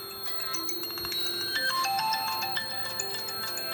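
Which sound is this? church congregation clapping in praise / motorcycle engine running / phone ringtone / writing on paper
phone ringtone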